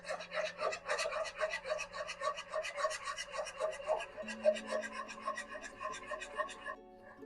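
Spoon scraping and stirring a milk and khoya mixture in a pan over a low flame for kulfi, a continuous rapid rasping rub that stops near the end, with a quiet background hum.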